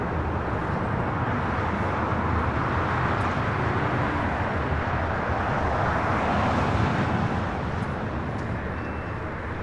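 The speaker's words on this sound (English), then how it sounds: "China Airlines cargo, the 777 freighter lined up 25 right will be the next takeoff here on the south side." A China Airlines cargo Boeing 777 freighter takes off from runway 25 right at LAX, giving a steady, loud, broadband engine roar that holds without a break throughout, with no voices.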